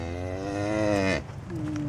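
Friesian cow at Skansen lets out one long, deep, loud moo close by, followed by a fainter second low call as it trails off.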